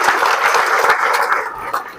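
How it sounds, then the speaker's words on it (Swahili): Applause from a workshop audience of dairy farmers welcoming the managing director, a steady dense burst of clapping from many hands in an indoor hall. "Makofi ya MD."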